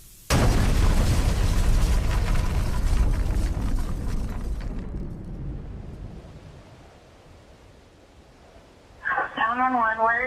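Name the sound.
propane tank explosion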